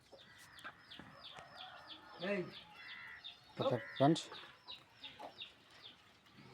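Chickens cluck in a yard where the hens have dug holes all over the ground, giving short repeated calls close by while someone talks over them.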